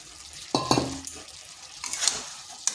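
Okra goes into a pan of boiled potatoes frying for a spicy vegetarian okra masala: a brief clatter and stirring scrape, then soft sizzling and a second burst of stirring, close and fairly quiet.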